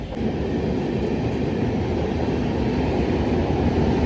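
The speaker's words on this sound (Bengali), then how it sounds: "এখন যে ট্রেনটা বেরোলো এটা হচ্ছে দুরন্ত এক্সপ্রেস" The Duronto Express rumbles past nearby as it leaves the station, a continuous heavy roar of wheels on rails, steady and unbroken from start to finish.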